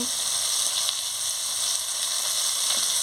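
Chopped green chilli hits hot oil in a pan and sizzles, a steady, close, bright frying hiss that holds without a break.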